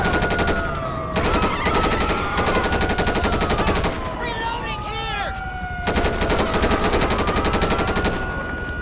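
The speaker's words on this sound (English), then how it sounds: "Now, I feel like I kind of have the okay to shoot back." Rapid automatic gunfire rattles through a GTA 5 shootout, loud and close, in long bursts of fast cracks with a short pause near the middle, while sirens wail steadily underneath.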